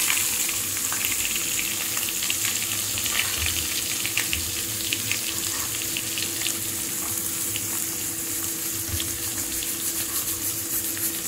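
Finely chopped onions and curry leaves frying in a hot pan, a dense, even sizzle that crackles steadily for several seconds under a faint hum, with no talk.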